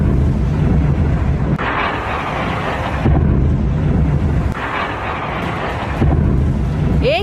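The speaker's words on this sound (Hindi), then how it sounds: "चौथा धमाका" Missile strike explosions in Kharkiv rumble low and heavy in successive rolling waves, thunder-like, mixed with strong wind buffeting noise.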